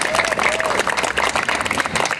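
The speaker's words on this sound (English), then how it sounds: "could you please give them all a round of applause?" Applause from a crowd at a West Seattle community gathering comes as a lively, uneven patter of many hands, fairly loud and close, with faint voices mixed in.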